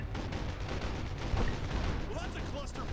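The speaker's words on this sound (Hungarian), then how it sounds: "Érdekes az a nagy lövöldözés, eddig nem hallott." Gunfire in the stealth shooter game Sniper Ghost Warrior 2, a dense, continuous battle barrage of shots and booming blasts that stays steady and loud for about three seconds.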